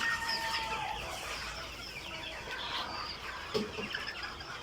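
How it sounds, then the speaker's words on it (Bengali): Chickens, roosters and hens of the Egyptian Fayoumi breed kept together in a farm pen during winter, clucking and chattering continuously at moderate distance, with a louder burst near the end and no talking. "সে কারণে আমি একসাথে রেখে দিছি মোরগ মুরগিগুলো"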